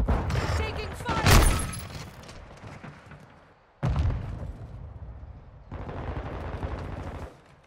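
Call of Duty Modern Warfare 2 gunfire crackles in loud bursts and rattling volleys, with sharp reports and rumbling impacts across the scene and no talk.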